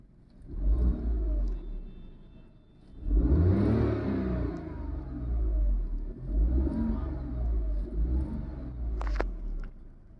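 Petrol engine of a 2023 Tata Tiago with the BS6 phase 2 update revved repeatedly while stationary, several rising roars separated by settling back to a rumbling idle, close and loud, with no speech.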